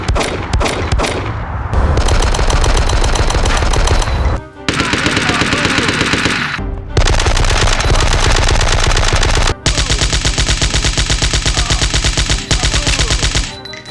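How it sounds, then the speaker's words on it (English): Loud machine gun fire in the PC video game Die Hard Nakatomi Plaza, long rapid bursts of gunshots separated by brief pauses, dense and aggressive with a heavy booming low end. "some of the sounds are good. Like the gunshots."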